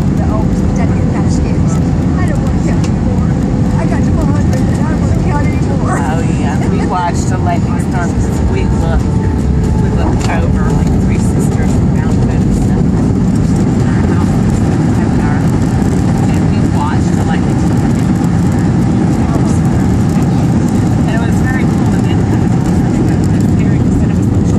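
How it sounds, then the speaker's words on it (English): Cabin of a Frontier airliner landing on a Denver to Nashville flight, a loud steady roar of engines and airflow filling the whole stretch, with faint voices now and then. "Hey, get ready for landing."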